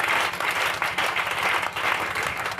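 A church congregation claps and cheers for Jesus during a sermon, with loud, dense and continuous applause throughout.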